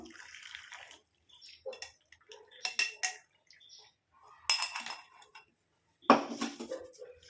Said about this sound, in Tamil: இப்போ இந்த டிகாஷனை வடிகட்டி எடுத்து வச்சுக்கலாம்